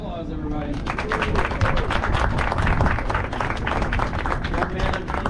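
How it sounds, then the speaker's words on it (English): Riverboat passengers on a Savannah river cruise break into loud, sustained applause and clapping that fills the deck, with a voice heard briefly at the start and crowd noise continuing throughout. "Round of applause, everybody."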